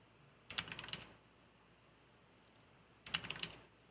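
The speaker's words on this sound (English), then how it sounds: "Am I typing it in wrong?" Typing on a computer keyboard at an air traffic control radar approach simulator, two short close bursts of rapid key clicks separated by a quiet pause.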